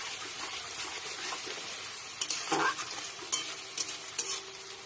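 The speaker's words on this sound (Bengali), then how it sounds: "পেঁয়াজটা যাতে একটু তাড়াতাড়ি ভাজা হয় তার জন্য একটু নুন আমি দিয়ে দিলাম" Onions fry with a pinch of salt in a hot pan, a steady close sizzle running throughout, with a few brief scraping stirs near the middle and end.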